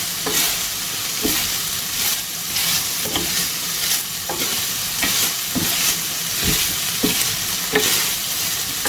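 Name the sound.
stirring fry gosht mutton on a tawa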